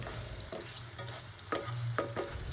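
Tomato with hand-pounded ginger garlic paste frying in oil, heard as a close, steady sizzle with several rhythmic scraping stirs of a spatula in the pan.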